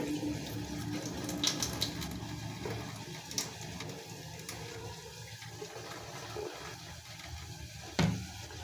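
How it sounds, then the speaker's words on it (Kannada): Water being drained off soaked bullet rice in a home kitchen, a steady pouring, splashing wash that runs continuously at close range, ending with a brief louder splash. "ಇದರಲ್ಲಿ ನೀರೆಲ್ಲ ತೆಗಿಯೋಣ ಇದರದ್ದು"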